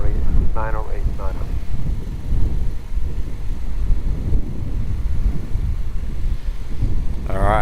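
A Qatar Airways airliner lands on runway 34 at Melbourne Airport, heard from the terminal as a sustained, heavy low roar with wind buffeting the microphone and brief tower radio chatter at the start and end.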